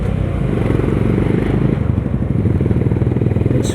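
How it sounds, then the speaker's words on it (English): A Honda CB350 H'ness 350cc motorcycle engine pulls steadily on a highway, a continuous loud throbbing exhaust rumble with rapid firing pulses, close and alone. "It's very very nice for a 350cc engine, for this much amount of weight that this bike carries."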